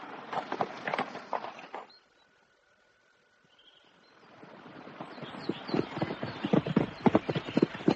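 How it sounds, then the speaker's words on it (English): Horse hooves clip-clopping at a walk, an uneven patter of hoof strikes that stops briefly, then returns and grows louder and denser as the horse comes closer. "Fetch me the quietest horse"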